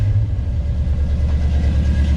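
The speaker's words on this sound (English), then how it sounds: "We'll fire it up. This thing's cold." A cold 1985 Chevrolet K20 square body pickup with new exhaust runs at a steady, throaty idle, a loud continuous low rumble close by with no talking.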